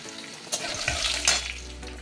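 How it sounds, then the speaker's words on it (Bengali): Whole spices such as bay leaf, cinnamon, cloves, cardamom and cumin sizzle with chopped green chillies in hot oil in a pan. The frying hiss runs steady and close, with a few brief stirring scrapes. "ফোড়ন ভালো করে ভাজা হয়ে গেছে"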